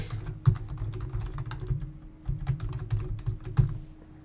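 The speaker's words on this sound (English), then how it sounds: "I'm going to fix up my bad typing here" Typing on a computer keyboard while composing an email, a quick irregular run of light clicking keystrokes with a few heavier taps, close and alone without talk.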